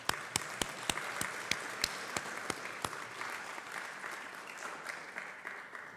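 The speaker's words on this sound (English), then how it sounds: "one final round of applause for all of our recipients this evening" Applause from a modest audience at a college spring honors night, with a few loud, close, evenly spaced claps over a softer bed of general clapping that slowly fades.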